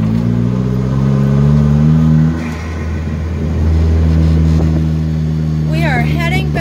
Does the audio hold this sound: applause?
no